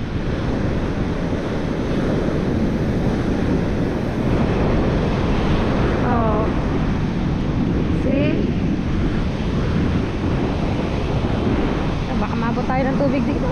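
Steady, loud roar of sea waves washing onto the shore at a beach resort, constant surf with heavy wind buffeting the microphone throughout and no pause in the rushing water.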